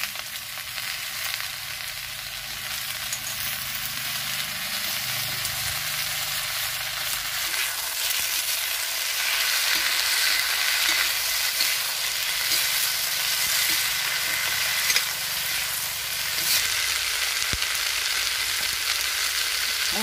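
Capsicum and potatoes sizzle steadily in a pan over a village clay stove, with scraping stirs at intervals throughout and no talking.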